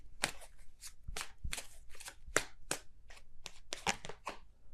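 Tarot cards being shuffled by hand during a reading, a run of quick crisp riffling bursts close to the microphone with brief pauses between them, heard alone without talk.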